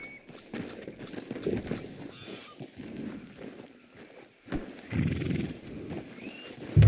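Horse hooves clip-clop at a walk in Red Dead Redemption 2, with a horse whinnying over soft low rumbling, then louder thuds near the end.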